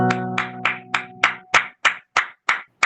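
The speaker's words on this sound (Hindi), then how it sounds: "जोरदार तालियों के साथ मेरे प्यारों, हम सभी रश्मिता मैम का स्वागत करते हैं" Around ten slow, even hand claps ring out in a church to welcome a speaker, loud and close, with a steady tonal hum under the first half.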